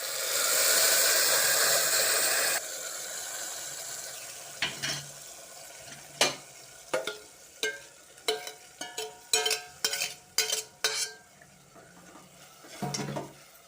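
Gongura sorrel leaves and dried shrimp curry stirred in a pan: a loud steady sizzle opens the clip, then quieter cooking with a series of sharp spatula scrapes and clinks against the pan.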